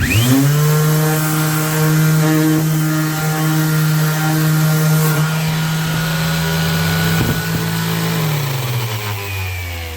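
An electric sander on wood runs as a loud continuous motor whine with a strong steady tone that shifts in pitch as it loads and spins up, close and without speech.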